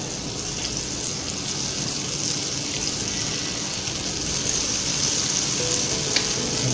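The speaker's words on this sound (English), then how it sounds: "So I'm going to put this other piece of butter in the skillet here." Butter melts and sizzles in a hot skillet while a grilled cheese sandwich cooks. A steady, close frying hiss runs throughout with no talking.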